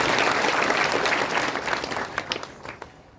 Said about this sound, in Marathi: येणाऱ्या भाविकांचं सप्ताहाच्या प्रीत्यर्थ आपण सगळेजण टाळ्या वाजवून स्वागत करू.